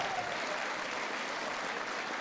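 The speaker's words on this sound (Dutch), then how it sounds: "Een groot applaus ook voor iedereen die de show vandaag heeft voorbereid, die mee heeft gedaan" A crowd at a carnival prince unveiling claps steadily in dense, continuous applause that holds at an even level throughout, with no voices standing out above it.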